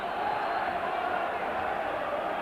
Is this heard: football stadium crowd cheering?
yes